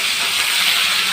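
Okra dropped into hot oil in a wok after frying onions, a loud continuous close sizzle with no talk.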